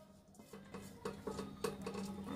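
A metal cooking pot rattles and clatters during festive Tet food preparation for Doan Ngo in Binh Duong, a series of fairly close, irregular clinks and knocks growing slightly louder, with no talking.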